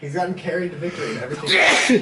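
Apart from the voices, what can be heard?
sneeze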